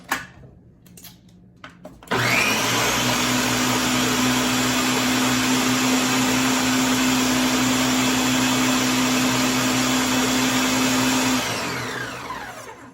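After a couple of soft knocks, an electric mixer blending coconut lime ice cream mix roars on loudly and whirs steadily for several seconds before winding down at the end.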